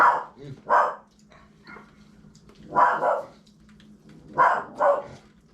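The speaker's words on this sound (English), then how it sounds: "Maka hears a dog outside." A dog barks in several short bursts, in pairs, sounding somewhat distant against a quiet background.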